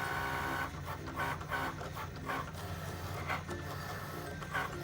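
A Cricut cutting machine cuts a milk carton goodie box from card, whirring and clicking as its carriage moves in short, repeated back-and-forth bursts at close range.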